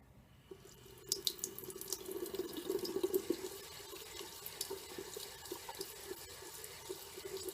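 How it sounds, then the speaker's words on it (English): A water tap runs for hair washing, a steady close gush and splash into a basin with faint drips, rising briefly then settling into an even flow. "I'll just turn my water on."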